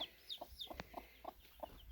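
A hen clucks in soft, repeated low calls, with faint high peeps from her five or six small chicks scattered between them; one brief sharp knock partway through.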